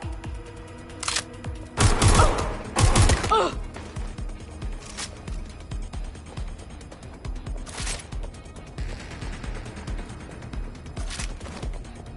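Gunfire in the video game Watch Dogs Legion, with a couple of dense, loud bursts early on followed by scattered shots and mechanical clatter, while a voice talks over the action.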